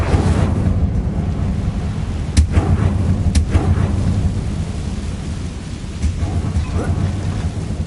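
Incendio fire spell cast in a Harry Potter video game, a sudden crackling whoosh over a loud, rumbling, stormy backdrop with sharp bursts near the middle of the clip.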